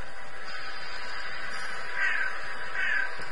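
Crows or ravens give two hoarse, rasping caws, the second following under a second after the first, moderately distant and fairly faint over a steady background hiss.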